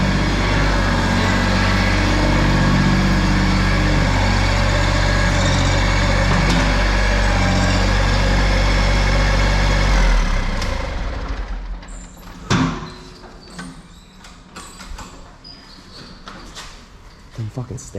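An uncatted diesel engine idles loud and close with a steady low rumble for about ten seconds, then cuts away to quieter handling noises, clanks and a brief thump.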